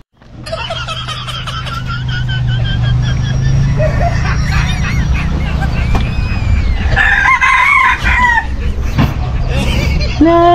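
Labuyo junglefowl rooster crows loudly and repeatedly close by, with clucking in between, while people talk and a car hums in the background.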